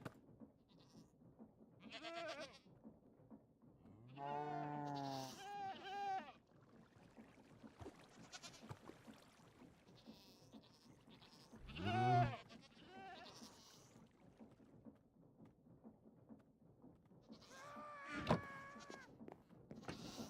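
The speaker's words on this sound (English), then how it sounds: "I might have to get rid of the goats. They're driving me a little crazy. They won't stop making noise." Goats in the video game Minecraft bleat in several separate wavering cries, some drawn out and some short, spaced across a quiet background.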